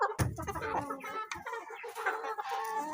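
Brahma chickens cluck close by in a busy, irregular stream of short calls with a few sharper squawks mixed in.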